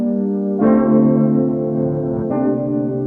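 Layered lo-fi synth pads combined with a reverse piano form a sustained, washy chord bed with echo and reverb, swelling in two distinct chord changes, loud and steady with no voices.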